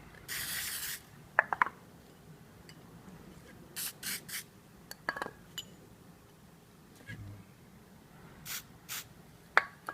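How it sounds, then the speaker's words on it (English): Several short hissing bursts from a spray can of lubricant onto a pewter alloy part, separated by pauses, with faint clinks and rubbing between them. "Just spray it down"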